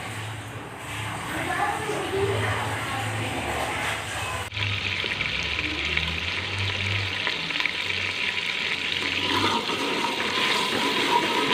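Onion paste browning in a pan for beef paya sizzles and fries steadily, mixed with a hum of background noise and a lower rumbling; after a brief change partway, the frying continues bright and continuous.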